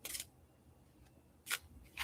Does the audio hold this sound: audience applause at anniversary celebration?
no